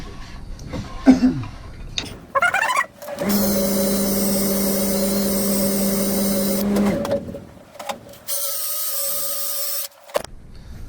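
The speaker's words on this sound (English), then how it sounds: "Let me sand that down real quick." A power sander whines steadily on an end-grain wooden cutting board bowl being smoothed to 120 grit, running for several seconds with a tonal hum, stopping, then starting again briefly, with handling knocks around it.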